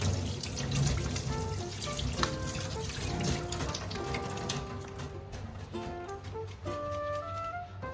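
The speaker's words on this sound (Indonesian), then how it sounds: "Kita cuci tangan dulu supaya tangan kita bersih dan makanan kita higienis lah." Running tap water at a sink while hands are washed before cooking: a steady close stream of splashing water throughout, with faint tonal squeaks and clatter mixed in and no speech.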